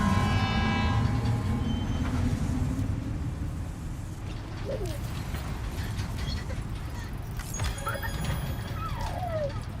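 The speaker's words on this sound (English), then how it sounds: "Alright, 2-minute monorail" Monorail ride in Death Stranding 2, a continuous low rumbling rail drone with rolling wagon clatter, a horn-like tone early on and faint brief chirps later, the sound gradually easing in loudness.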